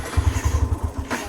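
A motorcycle engine chugs nearby in a short burst of low, rhythmic thumping pulses, like a single bike idling or starting up, with no voices.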